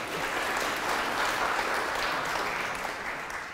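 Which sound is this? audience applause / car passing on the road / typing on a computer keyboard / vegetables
audience applause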